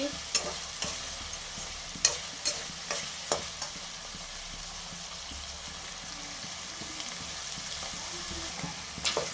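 Mutton gravy masala fries in a pan while a spoon stirs it. A soft, continuous sizzle runs underneath, broken by sharp scraping clicks that come in quick clusters early on and again at the end.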